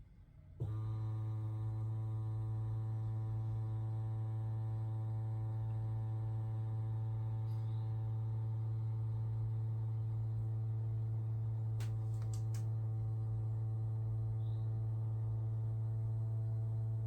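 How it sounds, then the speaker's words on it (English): The fuel pump of a Yamaha YZF250 motorcycle runs with a steady, quiet electric hum that starts abruptly and holds unchanged, with a few faint clicks along the way. "Let's see if this fuel pump kicks on."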